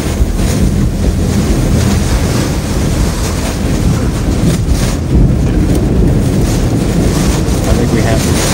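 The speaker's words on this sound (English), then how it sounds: "Luckily, the extreme winds we were experiencing had just relaxed a little" Extreme winds in Hurricane Ian's eyewall near Port Charlotte, a loud continuous roar of wind buffeting the microphone with rushing, surging gusts, steady throughout with no clear talk.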